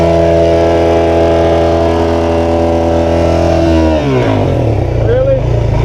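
A motorcycle engine holds a loud, steady rev with strong harmonic drone, then the pitch drops and wavers as the throttle eases, with shouting voices over it.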